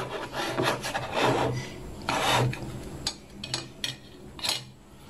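A spoon scraping and grinding against hardened, clumped Milo chocolate malt powder in a container, several rough rasping strokes up close, with no talking.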